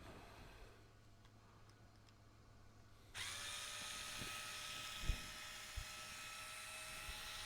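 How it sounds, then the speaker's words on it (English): A powered screwdriver starts up partway through, a steady loud whine running to the end, with a few clicks and knocks, while working on the rear axle of a Traxxas TRX4 RC truck. "I'll get you guys a link for the powered screwdriver here"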